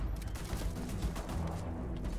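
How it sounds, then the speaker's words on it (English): A turret fires on the player in the video game Starfield: a low, steady run of muffled shots and thuds, fairly quiet and continuous, with no speech. "I'm getting hit by this turret somehow."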